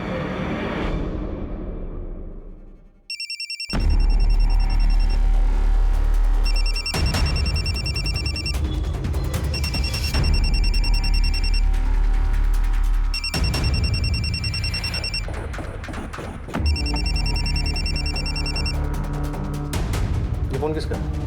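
An old-style telephone rings loudly in repeated bursts with short gaps, a bright trilling bell over busy background sound.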